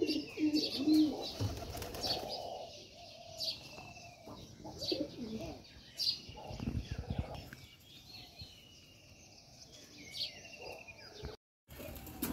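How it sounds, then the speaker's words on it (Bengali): Pigeons coo repeatedly as they arrive to eat, with soft throaty calls and a few higher chirps scattered over several seconds. The birds sound fairly close, with quiet stretches in between. "এক এক করে আমার পাখিগুলো আসতেছে খাবার খেতে"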